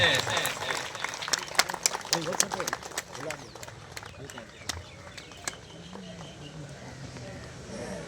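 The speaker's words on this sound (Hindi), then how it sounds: "भरपूर तालियां दे नाल सरदार जाम अयाज मोहना साहब।" A crowd claps, loud at first, then the applause thins and fades over several seconds with voices underneath.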